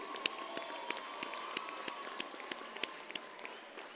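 An audience at a university graduation ceremony for the Faculty of Applied Sciences gives a steady, sustained round of applause, a dense wash of many hands clapping at moderate distance with no voices over it.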